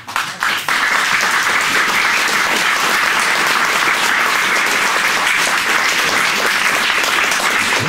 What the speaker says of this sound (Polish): A tu zdecydowanie dłuższe brawa